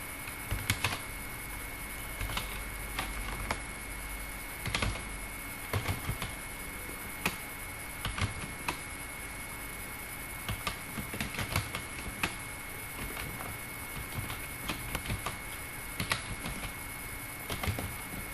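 Computer keyboard typing while entering text in Microsoft Word: a steady patter of quiet, close key clicks running throughout, with occasional sharper taps, over a faint constant background hum and no talking.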